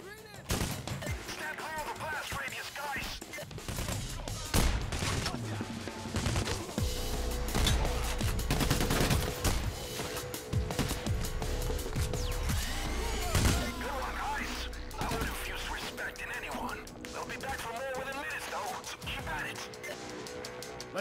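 Rapid bursts of gunfire and automatic weapon fire during a heist shootout in the video game Payday: The Heist, loud and sustained with occasional crashes, with voices talking over it.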